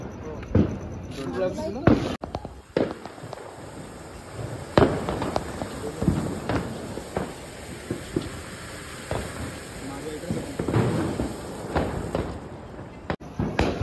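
Sharp firecracker bangs burst one after another at irregular intervals during Diwali, some close and loud, with people talking throughout.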